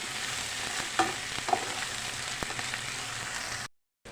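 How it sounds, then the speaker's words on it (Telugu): Masala for a mutton gravy curry sizzling in a pan, a constant close crackle punctuated by a few sharp clicks and stirring scrapes before cutting off suddenly. "ఇలా పచ్చివాసన పోయేదాకా ఫ్రై చేసుకోండి"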